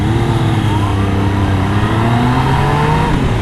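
A Yamaha MT-09 three-cylinder motorcycle accelerating hard on the road, its engine note rising steadily in pitch through the revs, loud and close under rushing wind noise, with no talking.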